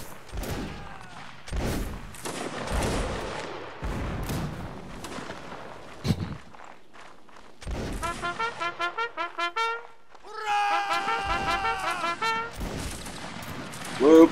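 Musket volleys and scattered shots in the Napoleonic battle game Mount & Blade: Napoleonic Wars, sharp separated cracks followed by a rapid rattling fusillade and later a burst of layered battle noise, with voices talking between shots.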